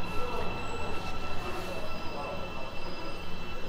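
Subway train running through Gangnam station in Seoul, a steady rumbling roar with faint wheel squeal throughout, close and continuous with no clear passing peak.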